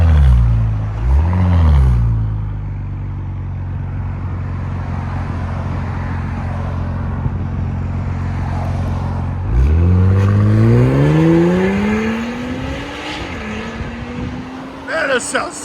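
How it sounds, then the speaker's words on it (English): A Porsche Cayenne S with a 2.9-litre twin-turbo V6 and fully straight-piped exhaust rumbles at a deep idle, then revs up in rising surges and settles again, loud and close, with voices briefly heard over it. "This beautiful Porsche Cayenne S twin turbo that we just fully straight piped"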